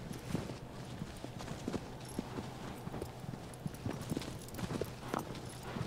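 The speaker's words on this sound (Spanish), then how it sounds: "Dirijo al caballo estupendamente." Horse hooves gallop in Shadow of the Colossus on PS4, a steady, fast clip-clop rhythm running throughout at moderate loudness over game ambience.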